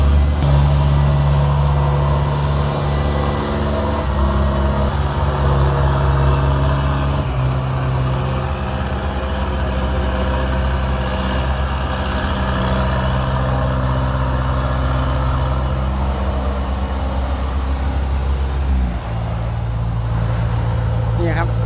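A rice combine harvester's engine drones loudly and steadily in a field, a deep continuous mechanical hum that shifts slightly in pitch near the end, with someone talking over it.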